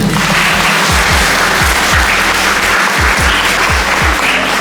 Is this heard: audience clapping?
yes